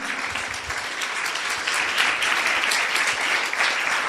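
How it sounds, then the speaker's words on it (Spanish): During a church service, a congregation breaks into sustained applause, a thick wash of many hands clapping steadily at a fair distance. "Si le vas a aplaudir, apláudele con todas tus fuerzas."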